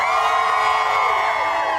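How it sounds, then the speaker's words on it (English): A television studio audience cheers and whoops loudly, a steady dense roar of many voices with high shouts riding on top throughout. "your crowd is so pumped up for this movie"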